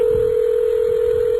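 A telephone gives off a steady, loud DTMF dialing tone that holds unbroken for the whole moment, with a faint low rumble of room noise beneath and no voices.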